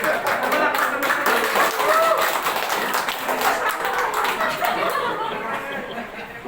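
Wedding guests clap for the bride and groom, a dense, steady wash of many hands filling the room, with scattered voices and a little laughter mixed in before it thins slightly at the end.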